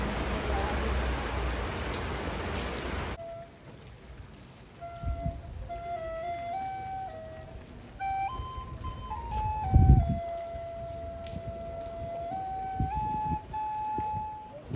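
Rain patters steadily on a Braga street in winter, heavy at first and then lighter, with scattered drips and splashes and a faint melodic tone drifting in the background.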